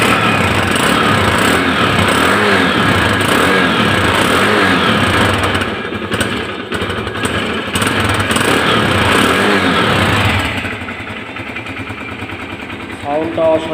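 Engine of a used first-owner motorcycle with 13,300 km on it runs loudly up close, with a rough throbbing idle and rising revs that ease off toward the end as a voice talks over it.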